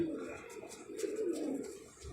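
A single pigeon coos softly in a low, rolling call, faint and close against quiet background noise.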